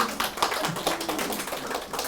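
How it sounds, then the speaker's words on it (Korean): Brief clapping from a small group at a lecture on the Diamond Sutra, a steady close patter of hand claps with no talk over it. "박수 한번 칠까?"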